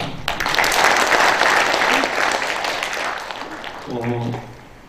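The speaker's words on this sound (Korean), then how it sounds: "큰 박수로 맞이해 주시기 바랍니다" Audience applause greeting a speaker at a military history academic forum in Yeongcheon, a dense steady clapping that swells early and gradually thins over several seconds, with a voice starting to speak near the end.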